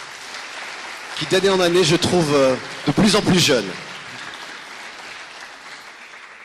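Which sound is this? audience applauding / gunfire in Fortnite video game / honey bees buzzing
audience applauding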